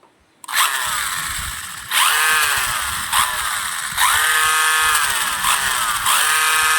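The brushless motor of an MJX 14209 1:14 four-wheel-drive bigfoot RC truck on a 3-cell battery revs hard in repeated full-throttle bursts, a loud close high-pitched whine rising and dipping between pulls.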